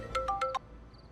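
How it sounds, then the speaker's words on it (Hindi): A short phone ringtone for an incoming call plays four quick melodic beeps close by in under a second, then stops, with no talk over it. "फिर से कॉल कर रहा है"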